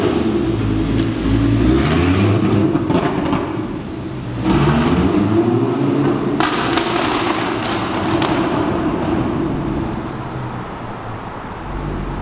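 An Audi R8 with a burble tune revs hard several times, loud and close, its exhaust crackling and popping with sharp bangs between the surges of engine roar.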